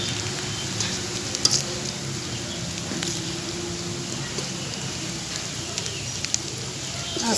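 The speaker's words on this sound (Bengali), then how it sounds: "আর একটু লাল লাল করে ভেজে নিব" Whole spices fry in hot oil in a pan on a kitchen stove, a faint, continuous soft sizzle and crackle running low throughout with a few small clicks.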